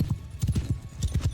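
Horse hooves gallop in a rapid, rhythmic clip-clop in the medieval combat game Mount and Blade 2 Bannerlord, close and fairly loud throughout the short burst.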